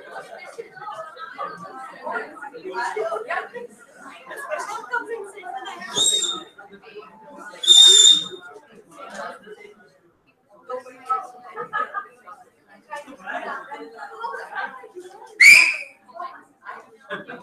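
Whistles are blown to call people in, sounding in three sharp bursts, separate and fairly loud, over ongoing group chatter and voices talking.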